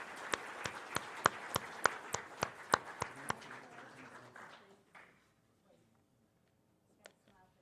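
Audience applause for a group of leaders at a weekly gathering: a burst of distinct, evenly spaced claps for about three seconds, thinning and fading out, with one stray clap near the end.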